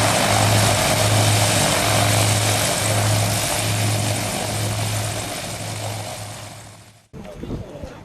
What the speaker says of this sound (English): The engines are tested for the second takeoff attempt.